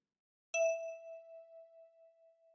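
A left-thumb pluck on a ten-key kalimba rings as a clean, sweet metallic note, close and clear, slowly fading with a light rhythmic shimmer and no other sound around it.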